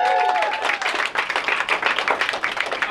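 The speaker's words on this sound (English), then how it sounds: "Clap it up for my wife." A comedy club audience claps and cheers for a stand-up comedian's wife, a dense burst of applause that swells and stays loud throughout with crowd noise mixed in.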